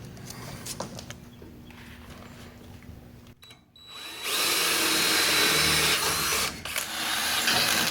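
A step drill bit bores holes in a steel bumper for a 1966 Ford Bronco tire carrier, a loud, steady grinding whine that starts abruptly after a quiet pause, breaks off briefly, then resumes.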